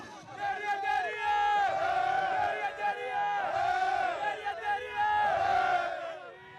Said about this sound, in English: Last night in Damascus, crowds celebrated a nation made whole.